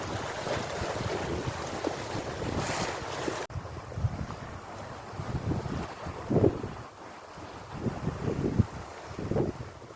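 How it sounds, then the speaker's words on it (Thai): Strong waves splash against the shore of the lake at Ebensee on a windy day, with gusty wind buffeting the microphone and several distinct nearby splashes rising out of a continuous rushing wash. "เสียงคลื่น มันสาด มันซัด"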